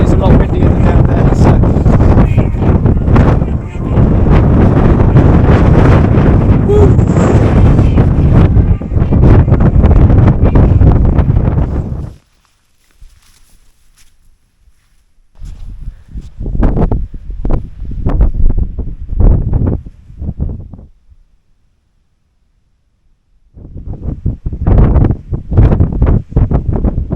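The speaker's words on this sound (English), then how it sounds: "as you go further up, it's a lot windier than down there." Strong wind roars across the microphone near the summit of Cadair Berwyn in Wales, loud and steady for about twelve seconds, then returns in shorter gusts separated by quiet gaps.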